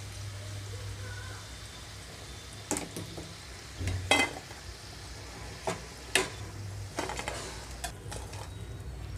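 Street-style punugulu batter frying in hot oil, a steady low sizzle running throughout with a few sharp clinks and scrapes of utensils against the pan, close by and with no talking.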